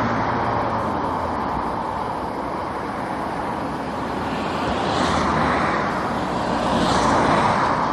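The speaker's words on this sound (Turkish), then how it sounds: "Bodrum'un kaynar mevki girişindeki polis denetim noktasında yol tek şeride düşünce araç kuyruğu 2 kilometreyi aştı." Traffic from cars queued on the road into Bodrum at a police checkpoint hums steadily, with passing vehicles swelling and fading over a continuous roadway drone.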